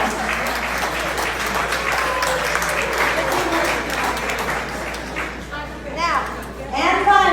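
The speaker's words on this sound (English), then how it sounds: "A round of applause for all of these people" Applause from a gathered audience at a talk, a sustained patter of clapping under a murmur of voices, fading toward the end as scattered talking and children's voices come through.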